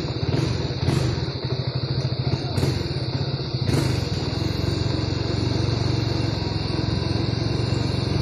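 Motorcycle engine braking in first gear down a road toward farmland, with a loud steady rumbling drone and a few sharp clatters, no talking.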